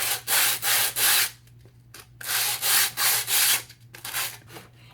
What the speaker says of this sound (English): So you get a sandpaper, and you go through